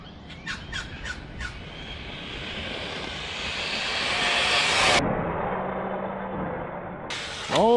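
An HPI Vorza S RC car on a 6S setup makes a speed run near full throttle, its electric drivetrain rising to a loud high whine that builds, cuts abruptly, then returns briefly, with no talk.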